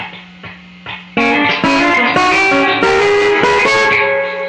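A few quiet picked notes, then a loud distorted electric guitar lead phrase from a solo rings out steadily with sustained, bending notes.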